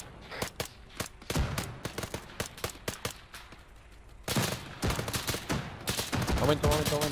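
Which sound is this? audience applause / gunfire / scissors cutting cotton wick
gunfire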